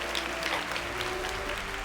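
Faint, steady applause from an audience at a women's achievement celebration, a continuous low wash of clapping over a background hum.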